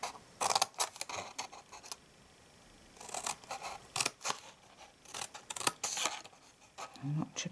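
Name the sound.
scissors cutting a notch in card for a gift box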